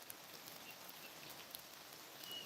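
Steady outdoor rain falls in a continuous, faint hiss at a rural hunting spot, a soft even wash with a few scattered drop ticks and no voices.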